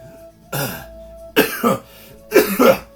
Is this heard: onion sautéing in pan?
no